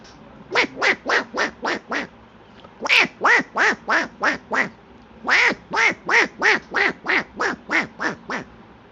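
Ducks quack loudly and close by in three quick rhythmic runs of about six to eight sharp quacks each, separated by short pauses, with no talking.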